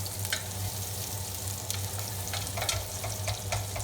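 Onions and shallots fry in a pan with a constant crackling sizzle, scraped along the bottom in scattered rough strokes; a low steady hum sits underneath and there is no speech.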